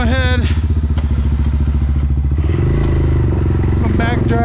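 A CFMOTO CForce 600 ATV plowing snow in -30 wind chill, its engine running close and loud with a pulsing rhythm and shifting revs, while a voice speaks over it.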